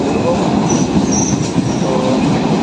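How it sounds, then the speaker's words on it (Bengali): A train pulls into Joynagar Mojilpur station, a loud, close rumble of rolling wheels and carriages with occasional brake squeals, continuous throughout with a bit of background voice from the platform. "আমাদের ট্রেন এসে গিয়েছে, আমরা এবার ট্রেনে উঠব।"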